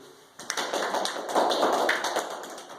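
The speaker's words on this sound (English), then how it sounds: "Let's give them a big round of applause too." An audience gives a round of applause at a talk, a short burst of moderate clapping that starts abruptly and carries on evenly for a couple of seconds.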